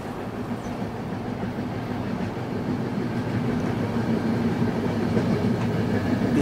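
Steady rumble of a train running on rails, heard from inside the carriage as a continuous, fairly loud low roar with faint rhythmic clatter throughout.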